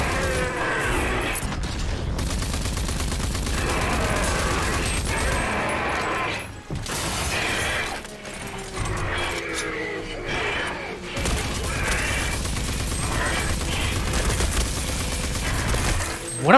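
Sustained gunfire from Rage 2 gameplay: dense, continuous bursts and booms with mechanical clanks run almost unbroken for the whole stretch, staying loud and busy, with a short lull partway through.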